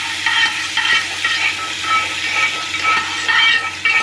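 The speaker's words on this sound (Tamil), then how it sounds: "அது நல்லா பொரியட்டும் பெருங்காயத்தூள் சேர்த்து அதையும் வதக்கி விட்டு நம்ம சட்னியில் சேர்த்துக்கலாம்" Spring onion chutney seasoning sautéing in hot oil with asafoetida, a steady close sizzle and fry with light stirring scrapes, no voices.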